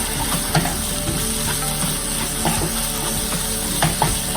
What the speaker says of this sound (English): And I'm going to stir all the ingredients.